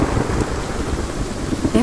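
Thunderstorm in the fantasy adventure game Eventide: Sorcerers Mirror: a steady wash of rain with low rolling thunder running throughout, loud and continuous, swelling slightly near the end.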